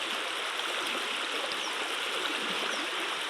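Water in a small stream rushes steadily over stones, a close, even, hissing flow that holds unchanged throughout with no voices.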